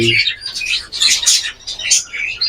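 Juvenile birds chirp in quick, high bursts close by, a busy run of overlapping tweets lasting a couple of seconds.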